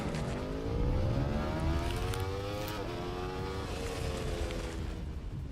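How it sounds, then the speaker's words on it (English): An Aprilia Tuono V4 Factory motorcycle with a 1099cc V4 engine roars close by, its pitch climbing and falling through gear changes in a loud, continuous snarl. "This bike uses a 1099cc V4 that makes 180 horsepower and 86 foot-pounds of torque."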